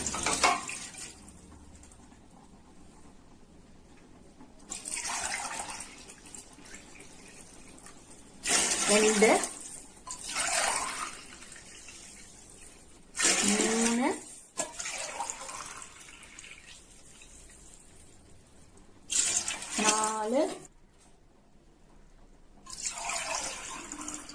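Water is poured into a pot for chicken biryani in several separate bursts, each a loud gushing splash rising in pitch as it fills, with quieter pauses between.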